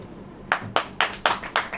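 A church congregation claps in unison during a Hindi sermon, five or six sharp, loud, evenly spaced group claps in a steady rhythm after a brief quiet moment.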